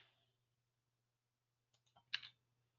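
A few sharp, close clicks from a wired headset or mouse during computer work, a short cluster of taps followed by one louder click, alone over a faint steady hum.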